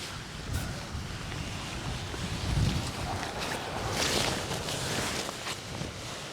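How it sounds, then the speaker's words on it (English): Wind gusting over the microphone on an exposed long-distance walking trail under greying skies, a steady broadband rush that swells and eases, with faint footstep-like thumps underneath and no talking. "So the wind was picking up a little"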